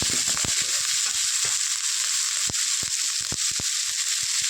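Cumin paste and chili paste frying in a pan while being stirred, a bright continuous sizzle with sharp crackling pops and scraping clicks of the spoon, close up.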